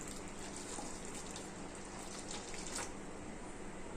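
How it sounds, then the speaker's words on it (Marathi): Grated potatoes are rinsed in a bowl of water, giving a faint, continuous swishing and sloshing with small splashes throughout. "आता आपण 2-3 पाण्याने आलूला जे किस करून घेतलेलं"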